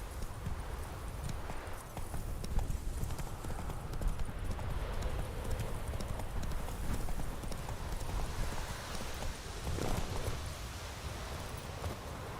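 Horse hooves clip-clopping steadily on the ground in the video game The Witcher 3, a continuous rhythmic walking gait over a soft outdoor background, fairly faint.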